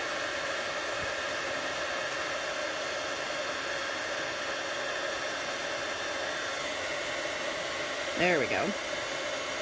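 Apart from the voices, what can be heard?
heat embossing tool blowing hot air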